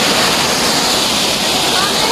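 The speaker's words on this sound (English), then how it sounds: "Waterfall right behind me." A waterfall in Cateel, Philippines roars as a steady, loud broadband rush of falling water, continuous and close throughout with no break.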